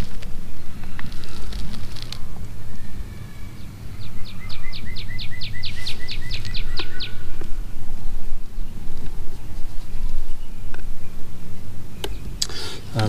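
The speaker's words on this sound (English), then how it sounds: "the sounds of the summer birds" Summer birds chirp in quick repeated trills over a constant low rumble, with scattered clicks and knocks nearby.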